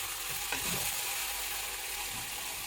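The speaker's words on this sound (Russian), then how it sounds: "Кидаю лук и обжариваю вместе с мясом." Onion and tomatoes fry with meat in a hot pan for homemade Uyghur lagman, giving a continuous loud sizzle with faint stirring scrapes underneath.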